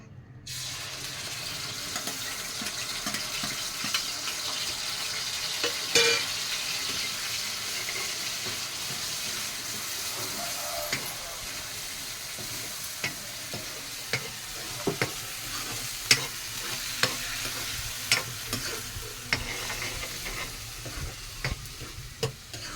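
Onion, tomato and green chillies fry together in a pan with a steady, close sizzle, broken by the clicks and scrapes of stirring that grow sharper toward the end; nobody speaks.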